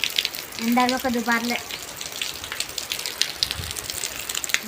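Steady rain hisses across the whole stretch, a dense, even wash of falling water outdoors, with a short voice sounding briefly near the start.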